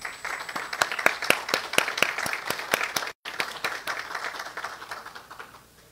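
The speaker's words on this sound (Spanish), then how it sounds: "recibamos con un fuerte aplauso a Olivia Logombardi Huamán" Sparse, evenly spaced hand claps in an auditorium during a seminar on sustainable anchoveta fisheries governance, a few people clapping crisply and closely, with a brief dropout midway before the clapping resumes.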